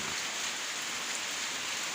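Steady rain falls outdoors, a dense even hiss of drops without pauses or voices.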